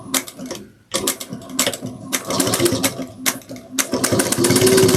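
A sewing machine back-stitches over zipper teeth while sewing a sling pack, its loud rapid chattering running in bursts with brief pauses, then settling into a steady run.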